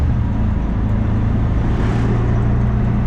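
A tuk tuk engine drones low and steady after a gear change, a close, continuous rumbling hum with light throttle and no voices over it.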